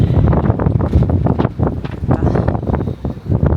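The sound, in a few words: strong cold wind on a sailboat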